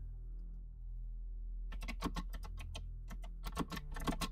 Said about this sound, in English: I'm going to type that in the chat